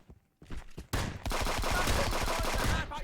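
Shotgun blasts in a video game: after a quiet start, a couple of sharp reports give way to a dense, sustained burst of loud, rapid gunfire that holds to the end, with no talk over it.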